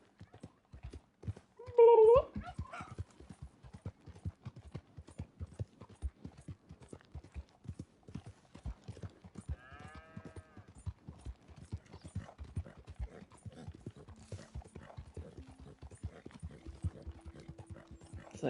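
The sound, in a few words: horse galloping in video game Red Dead Redemption II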